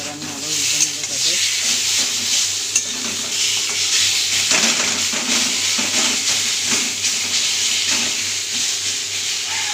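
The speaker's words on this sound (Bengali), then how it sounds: "ভাজতে দিয়েছিলাম, এবার আমি আবার উল্টে নেবো তাতে" Constant hissing sizzle rises from a pan where spiced hilsa fish head and greens are frying, with occasional scraping and clinks as the food is stirred and turned.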